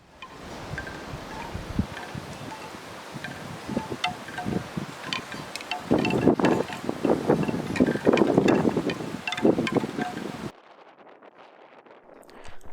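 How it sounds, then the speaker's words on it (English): Strong, gusty wind buffets a van during stormy winter weather, a loud roaring rush with flapping and rattling bursts that swell toward the middle, then drop abruptly to a quieter, muffled hum near the end. "there's no point speaking because you won't be able to hear me over the wind"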